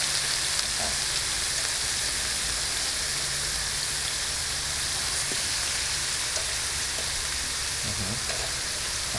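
Beef caldereta sizzles and crackles in a pan as it is sautéed and stirred, a dense, even frying hiss that carries on unbroken throughout.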